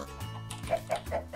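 Chickens in the video game Minecraft cluck in a short run of four or five clipped calls, close and fairly clear, with faint game ambience underneath.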